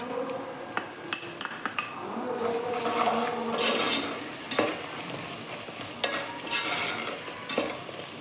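Coriander and cumin powders fry in a pan for Telugu tomato rice, giving a continuous close sizzle. A utensil stirs and scrapes against the pan in repeated strokes with occasional metallic clinks, and no one speaks.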